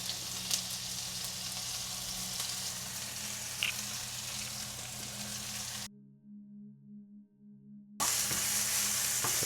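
Onions sizzle and fry steadily in hot oil in a home kitchen, a continuous crackling hiss that is briefly cut off, then comes back louder and brighter, with no talking.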